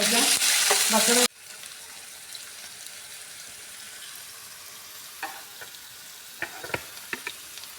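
Besan-coated okra sizzles loudly in hot oil for a second, then the frying drops away to a quiet background hiss with a few scattered clinks and taps.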